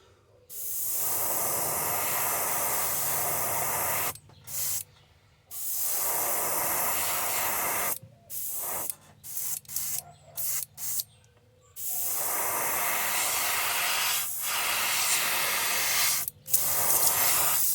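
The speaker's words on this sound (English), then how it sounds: "So we're just gonna spray this right there." An aerosol spray can hisses in long bursts, then short rapid spurts with pauses, then steady spraying again, close and fairly loud, painting a handmade wooden jointed wake bait fishing lure.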